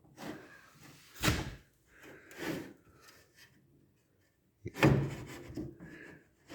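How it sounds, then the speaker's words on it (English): A Holden WB van door is moved and pressed against its body panel, giving two sharp knocks, a softer thud, a quiet pause, then a loud clunk with light rubbing after it. "Check the whole door against the panel."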